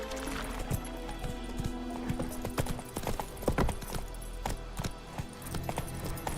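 Roach, Geralt's horse in The Witcher game, clip-clops along at a steady walking pace, sharp hoof strikes repeating clearly over a low ambient bed with no talk.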